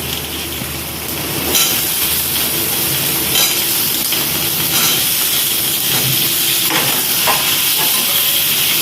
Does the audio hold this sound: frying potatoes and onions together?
yes